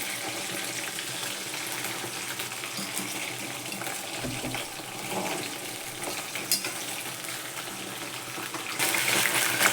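Prawn fritters crackle in hot oil, a continuous close-up sizzle with small pops that grows louder near the end; nobody speaks.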